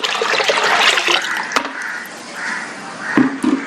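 Liquid pours and splashes steadily into a plastic bucket, a close, rushing trickle with a few brief knocks, faint birdsong behind.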